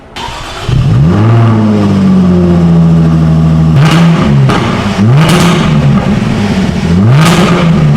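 An F-Type sports car's V6 engine, exhaust valves open, starts and settles into a loud idle, then revs sharply several times, each blip rising and dropping back, close up.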